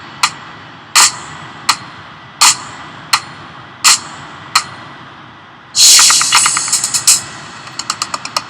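A drum mix plays back with a side stick accenting the kick drum: sharp, evenly spaced hits, then a dense, bright burst of rapid strikes followed by a run of quieter clicks, with no talking.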